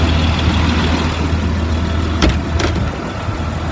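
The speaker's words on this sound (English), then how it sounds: "Motor sounds good." A 2004 Blue Bird All American 72-passenger school bus idles with a steady, loud, close engine rumble. There is no talk, only a couple of brief clicks partway through.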